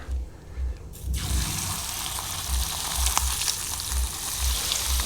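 Catfish pieces drop into hot oil and fry with a steady, loud sizzle that swells after the fish goes in and keeps crackling evenly, with low thumps underneath.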